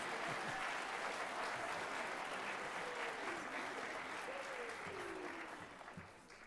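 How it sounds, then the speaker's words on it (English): An audience at a school winter band concert applauds in a sustained, even wash of clapping that fades toward the end. "How about an extra round of applause for the sleigh bell soloists up front?"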